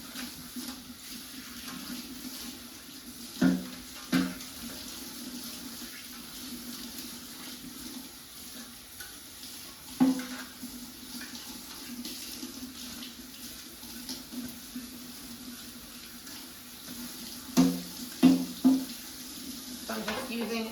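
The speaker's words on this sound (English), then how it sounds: "So just wash it with soap and water, just using normal kitchen sponge." A Cosori air fryer basket being scrubbed with a kitchen sponge and dish soap under a running kitchen tap: steady water hiss with several sharp scrub and clunk bursts against the basket.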